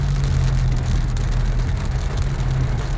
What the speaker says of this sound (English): Beautiful blue skies and just raining heavy as hell.